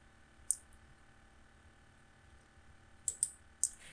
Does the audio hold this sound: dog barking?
no